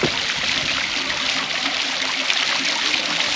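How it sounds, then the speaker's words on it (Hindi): A natural stream in Meghalaya runs near a pond and footbridge, its water rushing and splashing in a loud, steady broadband wash that continues throughout with no talking. "तो ये आई थिंक नेचुरल स्ट्रीम है"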